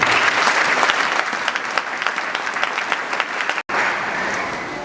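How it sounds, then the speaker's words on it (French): A church congregation claps loudly together in a dense, sustained round of applause that thins slightly, cuts out for an instant, then resumes at full strength. "Quand je vous demande d'acclamer la parole, il faut acclamer. Acclamons la parole."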